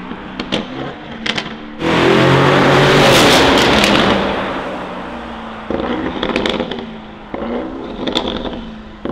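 A Ferrari Purosangue fitted with a Novitec exhaust blasts out a loud, sustained roar for about two seconds, then settles into a lower rumble broken by sharp crackles and pops.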